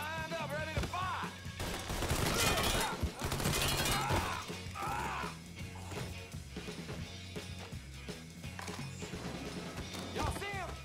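Gunfire volley in Mafia 3 as a line of shooters opens fire. Dense, loud bursts of overlapping shots and sharp cracks, with shouted voices mixed in, then a thinner stretch of scattered reports.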